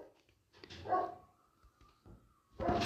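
A dog in the video game Minecraft gives two short, soft barks, spaced about two seconds apart, with quiet game ambience between them.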